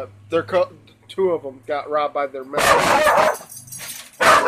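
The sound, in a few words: dog barking in the background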